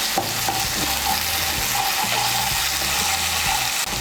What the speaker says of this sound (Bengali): পেঁয়াজ বাটাটাকে ভালো করে তেলের সঙ্গে মিশিয়ে নেব